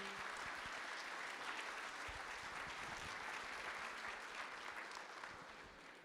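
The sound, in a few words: audience applause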